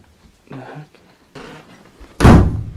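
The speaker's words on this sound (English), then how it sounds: "why did you close the door?" A door is shut with a loud, close thud near the end, after soft shuffling and brief voices in a quiet room.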